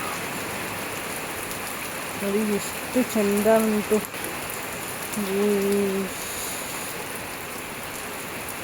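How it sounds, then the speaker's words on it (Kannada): Heavy rain pours down in a village, a steady broadband hiss that runs under the whole stretch, while a person speaks briefly over it in two short bursts. "ಮಳೆ ಅಂದರೆ ತುಂಬ ಜೋರು ಗೈಸ್ ಮಳೆ ನೋಡ್ಬೋದು"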